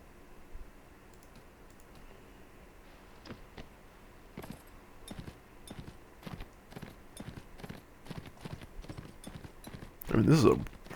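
A fast horse galloping in Mount & Blade: Warband, steady rhythmic hoof clip-clops building in pace, with a player talking over them and a louder burst near the end.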